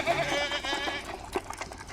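Farm goats bleat in short wavering calls, moderately close, with no talk over them.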